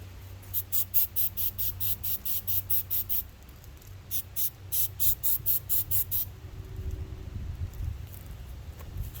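Aerosol cleaner is sprayed into a disassembled Honda Rancher ATV carburetor in a series of short, sharp hissing bursts, a quick run, a pause, another run, then a trailing low rattle of handling at the end.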